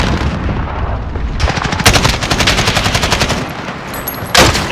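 Sustained automatic fire from an AK-74M rifle in the Modern Warfare video game: rapid, loud bursts of closely spaced shots that keep going for several seconds, with a short pause and another burst at the end.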